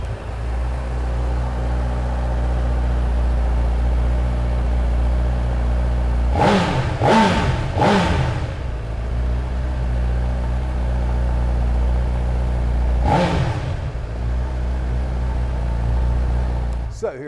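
A Honda CB1000R motorcycle engine idles with a steady low rumble, then revs sharply several times in quick succession, with one more rev later, close by.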